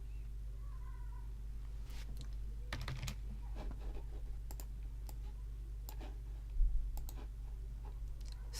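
Keys clack in short irregular bursts on a computer keyboard while commands are entered during a software compile on a Linux desktop, fairly close over a steady low electrical hum, with no speech.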